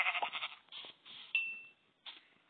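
Sheep bleating in the Minecraft video game, several short wavering bleats close up with brief pauses between them.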